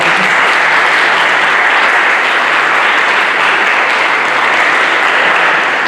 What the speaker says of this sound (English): So please give that a round of applause.